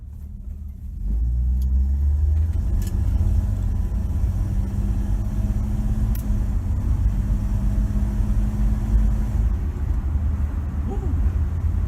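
A 1967 Plymouth Valiant with a slant six engine pulls away and accelerates, its low engine drone rising sharply after a quiet start and then holding a steady, loud interior rumble with gear-driven whine.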